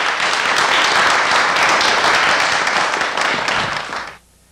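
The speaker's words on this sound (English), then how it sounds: "please give Oliver a round of applause" An audience gives a speaker named Oliver a dense round of applause at a business event, loud and sustained for about four seconds before cutting off sharply.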